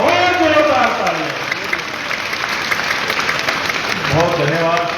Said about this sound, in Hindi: एक बार जोरदार तालियां और जोरदार तालियां